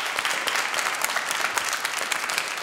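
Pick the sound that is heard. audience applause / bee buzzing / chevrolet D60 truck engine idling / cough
audience applause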